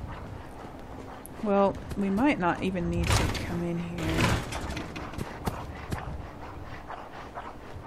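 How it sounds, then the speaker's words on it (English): Dogs bark repeatedly, somewhat muffled, on an upper floor of Slocum's Joe corporate headquarters in Fallout 4, with a thud like a door partway through, while someone talks over them. "There are dogs in here. I can hear them upstairs."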